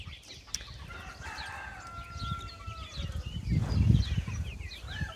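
A rooster crows on a poultry farm, one drawn-out call at moderate distance over an outdoor background with scattered bird chirps, followed by a louder low rustling thump.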